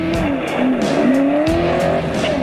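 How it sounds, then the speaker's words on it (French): Modified Ford Mustang drag racing car at a drag strip start line, a loud close engine roar under continuous high tire squeal with repeated rising and falling pitch sweeps, no talk. "Alexandre, t'es à bord de ta Mustang, t'es sur la grille de départ"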